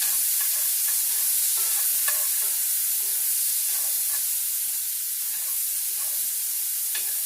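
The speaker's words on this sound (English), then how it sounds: "I have another pan over here heating up that I'm going to put the sausage in." Chicken sausage fries in a hot pan with a loud, steady hissing sizzle heard up close, dotted with small pops and spatters throughout.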